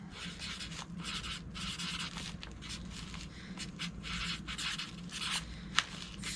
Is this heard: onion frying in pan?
no